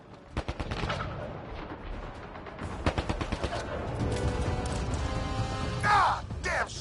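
Rapid gunfire from Mass Effect: Andromeda, dense volleys of automatic shots and sharp cracks in a combat scene, with heavier bursts and a high whining blast near the end, steady and loud throughout.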